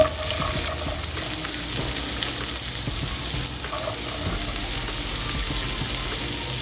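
Onions, cumin and curry leaves sautéing in oil for a South Indian egg pepper thokku, giving a continuous close sizzle and crackle with faint stirring and clinks mixed in, and no talk.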